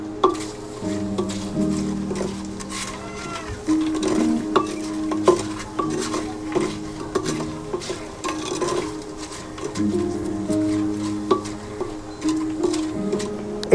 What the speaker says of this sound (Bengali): এটা একদম কম আঁচে ভেজে নেব।